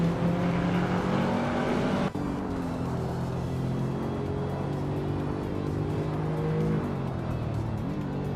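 Racing-game car engines, including a 2001 Mercedes-Benz CLK55 AMG, drone loudly and steadily for the whole stretch, with rising and falling pitch as the cars shift and accelerate, no talk over them.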